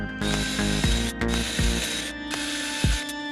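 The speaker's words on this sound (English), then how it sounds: "So trying with a 5mm drill bit." A power drill with a 5mm bit whines steadily in bursts while working on a ZD-915 desoldering station, stopping and starting several times with rattling, grinding clicks as the bit bites in.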